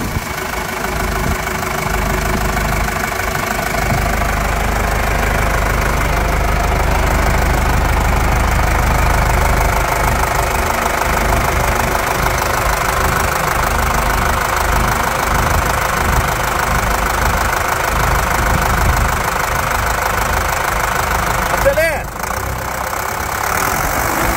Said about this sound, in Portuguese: não podemos encerrar sem ouvir o urro deste motor